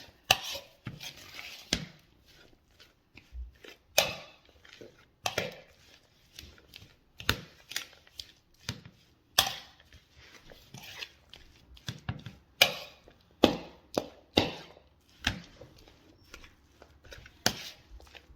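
Bean cake mixture mixed by hand in a bowl: a long run of irregular soft thuds and scraping knocks, steady and close, with no voices.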